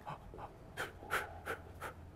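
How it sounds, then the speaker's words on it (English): A person takes a series of consecutive breaths in and out, divided into four, as a diaphragm control exercise. About six soft, close breaths follow one another in an even rhythm, with no talk over them. "do some consecutive breaths in and out."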